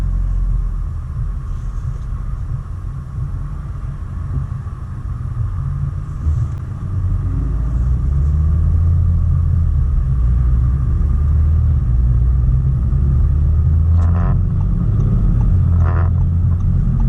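Audi S5 Sportback turbo engine, a loud, deep, steady rumble that builds in strength as the car pulls away, heard from inside the cabin with no talking.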